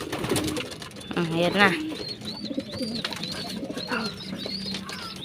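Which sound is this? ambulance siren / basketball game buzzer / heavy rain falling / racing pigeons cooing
racing pigeons cooing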